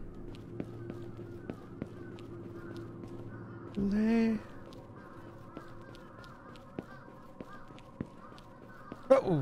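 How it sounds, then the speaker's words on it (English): Crows caw in a horror video game while a player talks excitedly, with a brief louder burst of calls rising above the sparse ambient game sounds. "Oh shit, the crows."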